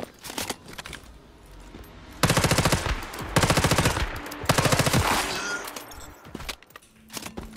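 Automatic gunfire with heavy recoil in the video game Once Human, three sustained loud bursts of rapid shots separated by short gaps, with a few single shots before and after.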